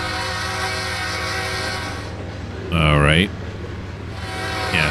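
A train horn sounds in Trainz 2022, a simulated Midwestern railroad: one short, loud, near blast over a steady rumble of the rolling train. Someone speaks briefly.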